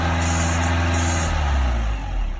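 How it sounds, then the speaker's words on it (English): Nissan Altima 2.5 engine being revved while a liquid is sprayed into the intake, a loud close droning rev that rises and then dips and recovers, with a hissing spray burst over it. "So while he's revving it up, you just want to spray"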